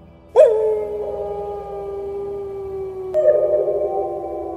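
Two large dogs raise a long, loud, steady howl that holds its pitch, and a second voice joins near the end to layer the wail, over faint low background noise.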